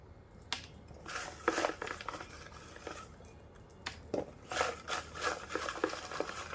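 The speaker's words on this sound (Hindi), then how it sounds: "मैं बहुत अच्छे से शफलिंग करके निकाल रही हूँ" Tarot cards being shuffled by hand, giving quiet papery riffles, flicks and rubbing bursts in irregular clusters, close and soft with no talking.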